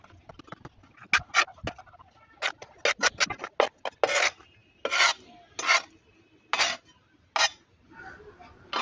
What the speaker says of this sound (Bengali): এবার এগুলোকে ভালো করে মিশিয়ে নেব।